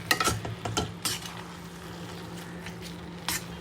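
A spoon scrapes and stirs grated low-fat paneer into a high-fiber stuffing in a pan, with several sharp clinks and scrapes early on, then a quieter soft sizzle and one more clatter near the end.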